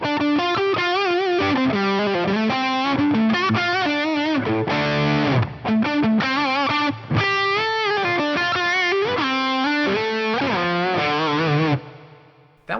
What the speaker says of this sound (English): so that's going to be some drive with a Hall reverb